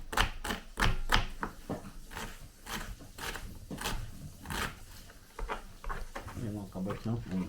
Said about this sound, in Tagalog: hiwa muna tayo ng sibuyas